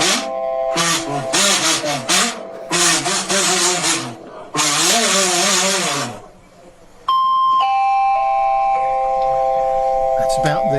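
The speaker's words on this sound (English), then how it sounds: "Oh, doorbell." A doorbell chimes with clear sustained ding-dong tones following a stretch of loud talking voices.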